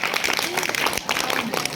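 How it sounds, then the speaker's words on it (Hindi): A crowd at a primary school's annual function breaks into loud, sustained clapping, dense and continuous with a busy wash of hands throughout. "जोरदार तालियों के साथ"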